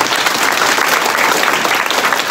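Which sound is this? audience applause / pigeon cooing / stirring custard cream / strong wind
audience applause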